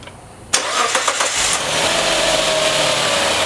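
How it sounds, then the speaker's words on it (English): A 2006-2008 Suzuki Grand Vitara V6 cranks and fires with a sharp start, a short revving flare, then settles into a steady, smooth idle heard up close. "So we're going to start the car now and listen to the valve train."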